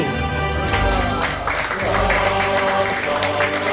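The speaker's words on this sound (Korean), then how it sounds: "우리 박영남 화요을 위해서 박수!" Sustained applause from a gathering for the painter Park Young-nam at his studio, a steady, dense wash of clapping at moderate loudness lasting the whole moment.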